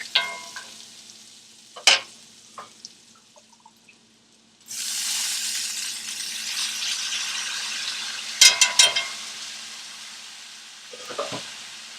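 Rinsed quinoa goes into a pan of cooking onions and garlic, bringing a steady broad sizzle that starts midway after quiet clinks and taps, with a few louder scrapes of stirring, close-up.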